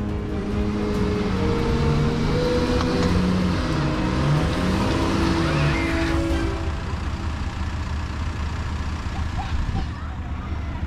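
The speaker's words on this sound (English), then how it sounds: "Give it a rev." An off-road vehicle engine revs at an off-road driving centre, a loud, continuous low rumble that rises and wavers in pitch before settling, with outdoor noise throughout.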